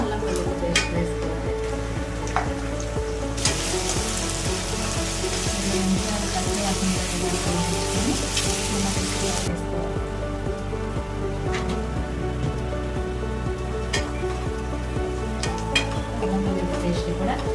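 Onions fry and sizzle in a pan for a mutton and drumstick curry, with steady crackling, occasional stirring scrapes and utensil clinks, and a louder burst of sizzling partway through.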